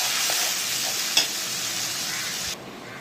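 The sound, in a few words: turmeric and masala spices frying and stirred in pan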